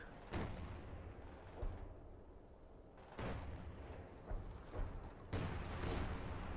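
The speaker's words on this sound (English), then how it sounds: "Artillery guns firing." Artillery guns in a Company of Heroes 2 winter battle fire several distant, booming shots at irregular intervals, each a sharp report with a rumbling tail over faint ambient noise.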